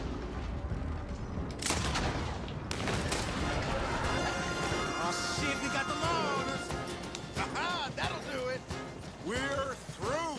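Gunfire in Deadeye mode in Red Dead Redemption 2 cracks as sharp, rapid shots over a chaotic wash of noise, with voices calling out between the blasts.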